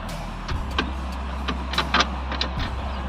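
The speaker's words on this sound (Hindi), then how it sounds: "अब दोनों का एग्जॉस्ट नोट सुना देते हैं एक बार ताकि आपको थोड़ा मज़ा आ जाए" Idling engine of a Bajaj Dominar 250 or TVS Apache RR 310 motorcycle with a steady low exhaust rumble throughout, close and fairly loud, with a few brief sharper blips over the drone.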